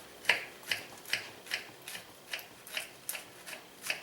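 A knife presses rhythmically through a pan of Rice Krispie treats, cutting it into quarters: about ten short crisp crunches at a steady pace, close and fairly quiet, with nothing else heard.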